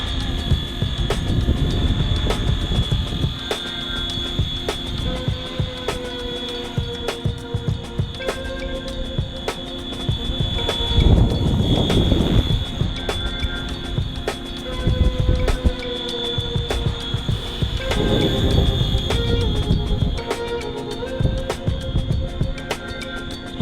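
A Flywing 450 V3 RC helicopter, recently repaired with a replaced ESC, flies steadily with a continuous whining motor hum and rotor throb, a persistent high-pitched tone and rising and falling pitch as it maneuvers.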